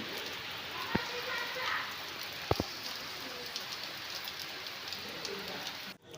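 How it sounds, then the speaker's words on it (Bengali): Heavy rain at night patters down across the whole stretch, a dense hiss with a few sharper drips and knocks standing out. "আর এই যে দেখো ঝমঝম করে বৃষ্টিও শুরু হয়ে গেছে"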